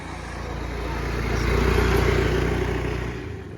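A motor vehicle passes close by on a road, engine rumble swelling to a peak midway and then easing off as it moves on.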